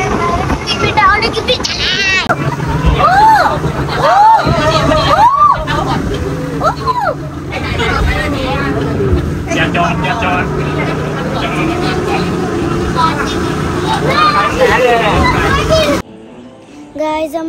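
Speedboat ride out to Coral Island off Pattaya, Thailand: a steady broadband engine and wind rush runs nearly throughout, largely masked by children's voices and lively chatter, then cuts off abruptly near the end.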